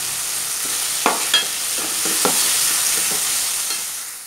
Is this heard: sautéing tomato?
yes